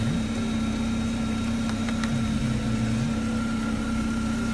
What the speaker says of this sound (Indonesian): mesin kita nyalakan, terus kita pegang aja